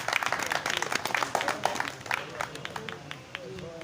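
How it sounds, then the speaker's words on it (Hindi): An audience applauding at an Urdu poetry recital (mushaira), with dense, rapid clapping that thins out toward the end, mixed with crowd murmur and a voice speaking over it. "आप तालियां बजाएं"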